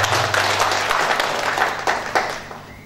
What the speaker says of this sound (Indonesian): Boleh tepuk tangan untuk salam merdeka